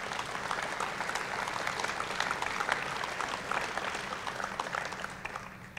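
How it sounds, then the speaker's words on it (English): A conference audience at Skepticon 6 gives a sustained round of applause, steady dense clapping from many hands, fairly distant and even throughout, with no talk over it. "Please give her a round of applause for all the work she's done."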